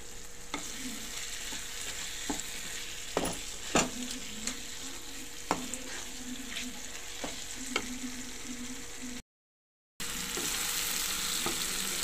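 Chicken fries with coriander in a pan, giving a steady soft sizzle broken by scattered clinks and scrapes of stirring, with a brief silent gap near the end.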